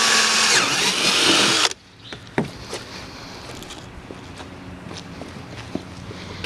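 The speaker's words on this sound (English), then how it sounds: "take your drill bit, your drill, make sure it's fully charged" A cordless drill bores through the inner plastic of a splitter on a 2015-2017 Dodge Challenger, a loud close whine that stops abruptly after under two seconds, followed by quiet handling clicks and taps.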